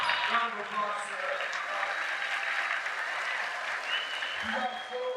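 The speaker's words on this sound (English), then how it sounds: "Round of applause, sir." A high school assembly audience claps steadily for several seconds in a large room, dense applause with a few brief cheers and voices mixed in.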